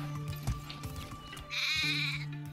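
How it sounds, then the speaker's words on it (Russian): Sheep bleating in the video game Medieval Dynasty, a couple of loud close bleats, the second long and wavering, over faint background sounds. "Но это же бяшки."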